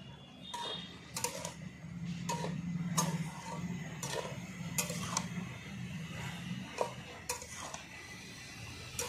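Greens are stirred in a karahi with a metal spatula, Malabar spinach cooking with eggplant, pumpkin and potato, giving a series of regular scraping clinks against the pan over a soft sizzle.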